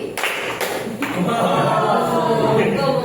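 Students in a classroom clap the tepuk malam, siang, pagi rhythm game: a few sharp, separated claps early on, followed by a dense wash of voices and chatter.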